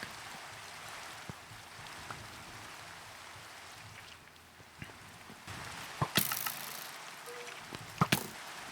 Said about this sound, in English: Building in the rain is low-key kind of